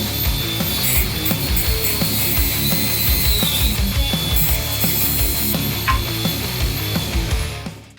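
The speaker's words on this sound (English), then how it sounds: "now I'm going to try and cut it with an angle grinder" An angle grinder cuts through a bike lock with a loud, continuous harsh grinding that runs for about seven seconds before stopping at the end.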